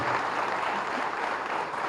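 Conference audience at a valedictory session in Hyderabad giving a round of applause, a steady, even wash of clapping at moderate distance with no voices on top.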